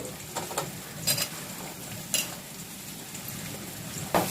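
Onions stirred and fried in a pan for Andhra-style ginger pulusu: a low, steady sizzle broken by a few sharp scrapes and clinks of the spoon at irregular moments.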